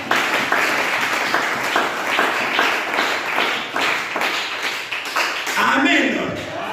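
A church congregation applauds, close and loud, in rhythmic clapping that runs for several seconds, fades near the end and gives way to speech.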